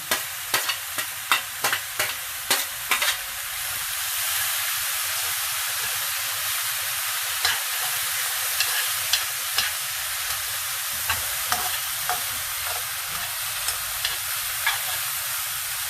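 Onions frying in a pan with a spoonful of garlic paste, a steady close sizzle broken by repeated sharp scraping clicks of a spoon stirring, busiest early on, with no voices.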